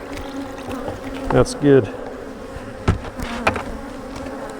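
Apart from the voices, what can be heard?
bees buzzing around a feeder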